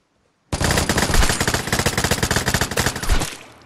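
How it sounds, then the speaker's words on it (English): Rapid automatic gunfire in a video game shooter, a dense burst of loud shots that rattles on for about three seconds and then cuts off, with no talking over it. "I can just shoot him through the wall"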